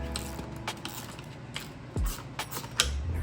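A ratchet turning a 12mm deep socket loosens the handlebar bolts on a Honda CRF250F dirt bike, giving scattered faint metallic clicks and taps at close range.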